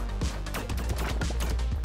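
Gunfire in the video game Brotato during wave 10, with rapid, dense bursts of shots layered into a loud continuous barrage.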